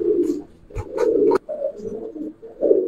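Ram Pani breed pigeons in a home loft coo close by, with low, repeated throaty calls and a few rustles.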